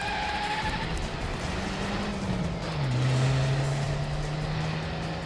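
A car engine droning nearby, then pitching down and holding a steady note as it pulls away under broad road noise; no voices.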